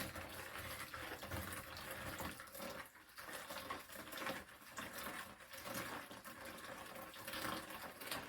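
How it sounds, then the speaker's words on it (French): A litre of hot water poured into a homemade Marseille soap laundry detergent mix, a quiet continuous gushing fill lasting several seconds. "je verse cette eau chaude, mais 1 litre"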